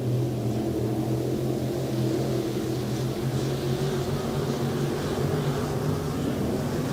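Sportmod race cars circle an off-road speedway during an Independence Day race, a steady, distant roar of engines droning without a break, with no voices over it.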